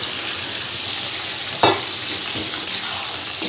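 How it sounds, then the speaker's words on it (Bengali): Desi chicken and onion fry in a pan over a high flame, giving a loud constant sizzle with a couple of quick stirring scrapes. "এবারে সমস্তটা একটু পেঁয়াজের সাথে ভাজা ভাজা করে নিতে হবে।"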